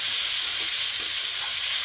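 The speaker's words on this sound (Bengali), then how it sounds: "এবার সামান্য একটু জল দিয়ে কষিয়ে নেব।" Spice paste in a pan hisses and sizzles steadily as a splash of water hits it while cooking a Bengali fish curry, a loud continuous frying crackle close up with no talk.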